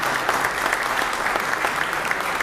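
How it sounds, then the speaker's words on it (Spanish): Steady applause from an audience at a book launch at the Centro Naval, a dense, even wash of many hands clapping throughout with no talk over it. "yo les pido nuevamente un aplauso para quienes nos han presentado"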